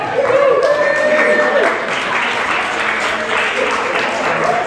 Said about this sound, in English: Let's give everyone here a round of applause.